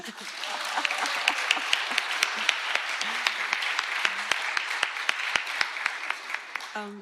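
A crowd at a medical research awards ceremony applauds steadily, dense clapping with a few louder individual claps standing out, continuing for several seconds.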